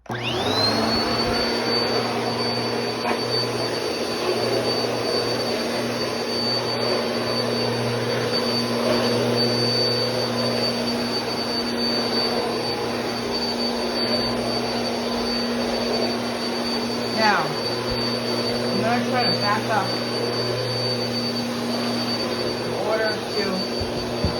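A Bissell Power Force Compact vacuum cleaner roars steadily the whole time in an apartment, loud and close, with a high whine on top and occasional clunks as it moves.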